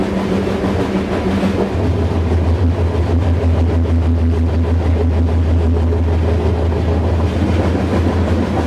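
Freight train of about 30 cars rolling steadily, heard from a rider in the rear: a loud, continuous low rumble and rattle of wheels and cars with a deep drone throughout.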